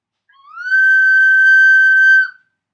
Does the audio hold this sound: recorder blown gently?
yes